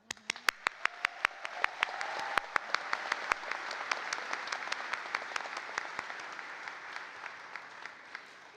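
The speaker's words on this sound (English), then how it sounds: "You deserve a round of applause." Sustained applause from a crowd at a high school graduation ceremony, a dense wash of clapping with a few sharp, close individual claps cutting through steadily for the whole stretch, fading slightly at the end.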